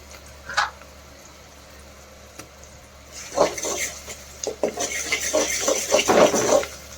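A spoon stirs cabbage keema fry with ginger garlic paste in a pan, giving soft scraping and clinking strokes that grow busier after a quiet start, close by, without speech.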